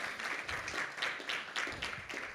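An audience at a development showcase gives a short spell of applause, steady and moderately loud, the clapping blurring into a continuous patter for a couple of seconds with no voices over it.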